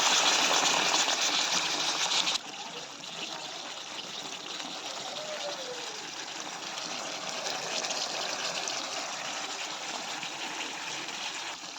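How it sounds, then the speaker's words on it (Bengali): Hot water pours steadily over taro curry from above, a broad continuous splashing gush that starts louder and settles into a sustained trickle-and-wash of liquid hitting the simmering pot, with no voices. "কচুটা কষানো হয়ে গেলে চিড়ে রাখা কাঁচা লঙ্কা এবং কিছুটা গরম জল উপর থেকে দিয়ে দেবো।"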